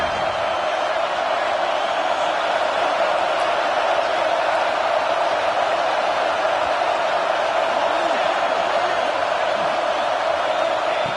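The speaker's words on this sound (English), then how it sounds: "Crowd is loud, hoping for a fourth down stop" A dense, steady roar of a large stadium crowd at an Ohio State versus Oklahoma State football game, loud and unbroken, with a broad wash of voices and no single sound standing out.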